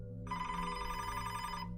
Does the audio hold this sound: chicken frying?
no